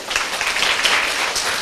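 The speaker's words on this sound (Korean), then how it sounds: "이런 열렬한 박수 굉장히 좋아하거든요" Enthusiastic audience applause at a summer-vacation English lecture event for teenagers: dense, steady clapping from a large crowd, loud and close, with no talk over it.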